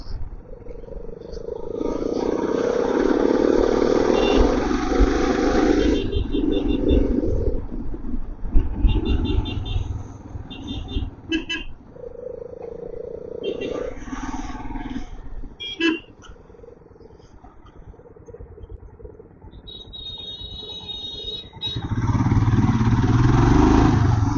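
A motorbike rides through heavy traffic on the monsoon road from Coimbatore toward Munnar, its engine droning steadily near the microphone with wind rush, passing vehicles and occasional horns.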